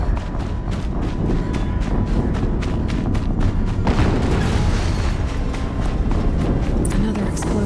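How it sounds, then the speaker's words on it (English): Another round of explosions in the video game Horizon Zero Dawn, a steady loud barrage of booms and bursts with crackling debris, rumbling continuously throughout. "Another explosion."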